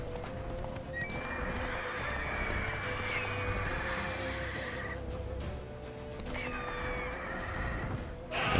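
Roach, the horse in The Witcher 3, gallops with steady clip-clop hoofbeats and lets out two drawn-out whinnies over a quiet game backdrop.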